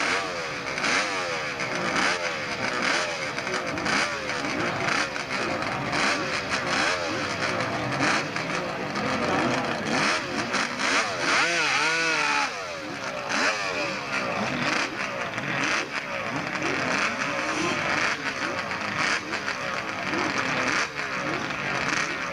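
Kawasaki drag racing motorcycles leave the start line at Snetterton in the 1990s, engines revving hard and roaring continuously as they accelerate up the hill, loud and sustained for the whole stretch.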